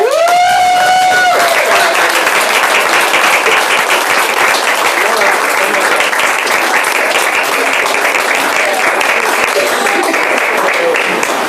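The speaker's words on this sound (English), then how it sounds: "So let's give a round of applause for Patrick Harper." Audience at a spring nutrition workshop breaking into applause, a dense, loud wash of clapping that runs steadily for about ten seconds after a brief tonal sound at the start.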